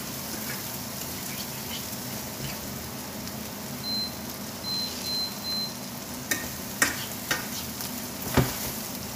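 Chicken, merguez sausages and vegetables sizzle steadily in a pan, with a few sharp stirring clinks and utensil knocks toward the end, heard up close with no talking.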